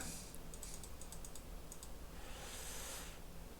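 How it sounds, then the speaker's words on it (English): Rapid clicking on a computer, quick bursts of sharp clicks in uneven clusters at close range, with a faint steady background hum and no speech. "Oh, I was clicking too fast."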